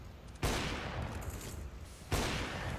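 Gunfire in Counter-Strike: Global Offensive, with two sharp, loud reports about two seconds apart, each trailing into a rumbling decay, no voices.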